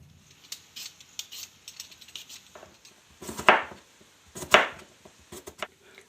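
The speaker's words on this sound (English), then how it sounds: "we're going to peel and chop up our potatoes" Potatoes being peeled and chopped on a cutting board while sausage browns for breakfast burritos: scattered quiet scraping strokes, then two sharp knife chops close by, with no talk.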